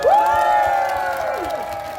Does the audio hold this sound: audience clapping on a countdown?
yes